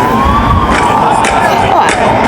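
Police car sirens wail in a bird video game, a rising and falling tone running through the clip over crowd noise and game sounds, with talk in the background.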